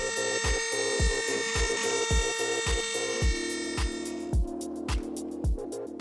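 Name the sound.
Shapeoko CNC milling with Datron 6mm single flute ball end mill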